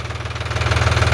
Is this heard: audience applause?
no